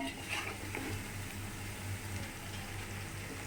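Onions sautéing in a pan for home-style chicken biryani, a soft, even sizzle with faint stirring, low and continuous under a steady background hum.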